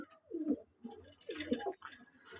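A cheeni pigeon at a loft gives several soft, rolling coos in a repeating rhythm, close and fairly quiet, with faint higher chatter in the background.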